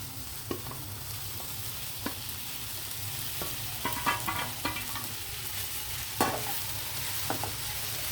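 Pasta tipped into a pan of sautéed vegetables and stirred for an Indian-style macaroni, with a steady low sizzle and scattered scraping clicks of the spoon, close and fairly quiet, with no talking.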